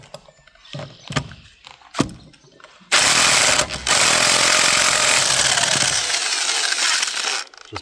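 A Von House impact wrench works at a car's lug nuts. A few sharp clanks come first, then a loud, sustained rattling hammer of the wrench that runs for several seconds before it stops.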